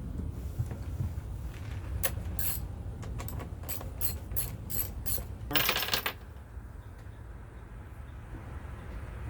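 A ratchet clicks while someone removes the carburetor cover of an outboard motor during winterizing. A run of quick, sharp metallic clicks comes in uneven bursts and ends in a dense flurry, leaving a quiet mechanical background with no speech.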